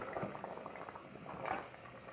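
Green chana curry simmers in a pot of water, giving a soft, continuous bubbling and popping that stays quiet and unbroken, with no talking.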